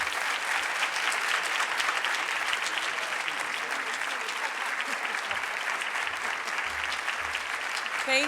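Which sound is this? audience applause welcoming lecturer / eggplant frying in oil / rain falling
audience applause welcoming lecturer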